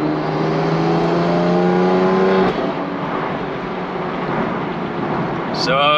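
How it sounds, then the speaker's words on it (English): A BMW F80 M3 with a hybrid turbo revs hard on a dyno, its loud droning engine note holding steady, then dropping into a rougher, noisier roar, with a brief high whoosh at the end. "So far I've really really been enjoying the sound of the turbo."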